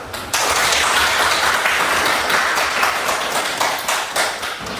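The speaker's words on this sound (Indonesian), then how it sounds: "Boleh tepuk tangan dulu." A class claps after a group presentation, a steady round of applause from a roomful of students that starts abruptly and holds at an even level for several seconds.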